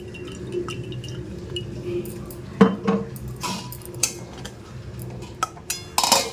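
A lid clatters onto a pot of pointed gourd (potol) curry cooked with spices and mustard oil in a home kitchen, giving a few sharp metallic knocks and clinks amid soft kitchen background noise.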